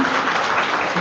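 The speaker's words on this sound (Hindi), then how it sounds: "तो अपने लिए ताली बजाइए" Audience clapping at a Brahma Kumaris spiritual class, a dense, steady wash of many hands filling the whole second, close and loud.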